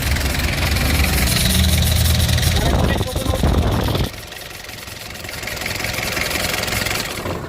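A KIA K2700 truck engine with a shut-off valve problem idles loud and steady, then cuts out after about four seconds, leaving a quieter background.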